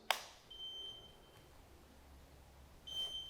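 Two thin electronic beeps from a Sur Ron electric motor controller during throttle tuning, one shortly after the start and one near the end, faint and alone over quiet room noise and a small knock.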